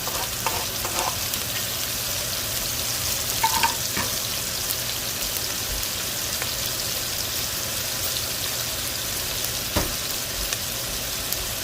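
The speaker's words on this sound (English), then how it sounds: "Now I have 1 chopped onion that I'm going to add." Chopped onion frying in a hot pan alongside salted and peppered short ribs, a steady, dense sizzle crackling throughout with a few faint stirring knocks.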